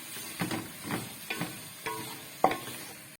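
Mixed vegetables frying in a pan and being stirred, soft sizzling under a few scraping stir strokes at an unhurried rhythm, close and fairly quiet.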